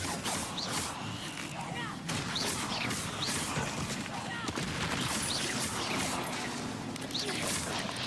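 Loud, dense game combat in Hogwarts Legacy, with the Incendio fire spell cast against spiders on a bridge amid continuous crashing, booming impacts and effects, with a voice calling out over the din.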